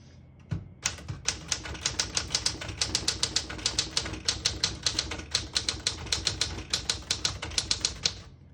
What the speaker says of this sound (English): This is a beautiful typewriter.